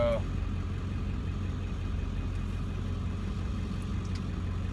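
Car interior while driving: a steady, moderate low engine hum and road drone runs throughout without a break, with a short faint chirp at the start.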